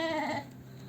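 A single short, wavering bleat from a young goat kid or lamb, close and clear, fading quickly into quiet background.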